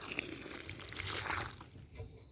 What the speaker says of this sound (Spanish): lo que sigue, poner un poco de agua